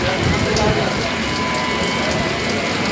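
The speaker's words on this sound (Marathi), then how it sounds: "पाऊस जोरदार" Heavy monsoon rain in Mumbai pours down steadily, a loud, unbroken hiss and patter that fills the whole stretch without pause.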